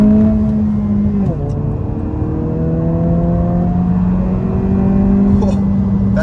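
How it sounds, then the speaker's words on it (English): A 2023 Honda Civic Si pulls hard in second gear, its engine note climbing steadily from inside the cabin with a brief dip at a shift point and rising again, loud and continuous. "we can try a second gear pull on the gas"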